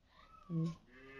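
A cow gives a short mooing call in the morning, a single brief low bellow about half a second long, fairly faint against quiet background sound.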